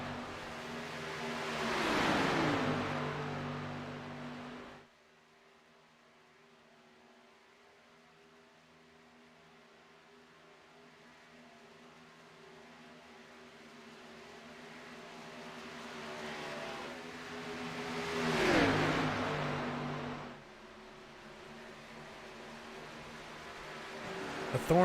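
Simulated ARCA Menards Series stock cars racing in iRacing, two loud engine pass-bys about sixteen seconds apart, each rising and falling in pitch, with a quieter stretch of distant engine drone in between.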